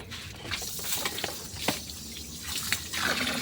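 Water runs from an opened tap through a 15-meter garden hose in a steady, close rushing hiss with small splashy surges, no voices over it.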